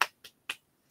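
Three quick, sharp clap-like snaps in a row, close and fairly quiet, each cut off cleanly with silence between.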